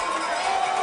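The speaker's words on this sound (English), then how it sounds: "The Cardinals crowd went from loud to quiet in just a second." A crowd of Cardinals fans at a varsity football game against Gonzaga, cheering in a loud, dense, steady roar that holds through the moment.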